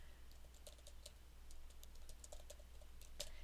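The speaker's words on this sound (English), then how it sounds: "start typing." Someone types on a computer keyboard in quick, uneven bursts of soft clicks, close but very quiet over a low background hum, with no talking.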